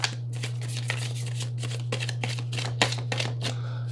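Oracle cards being shuffled for a tarot reading, a run of quick papery riffles and soft snaps repeating in bursts over a steady low electrical hum.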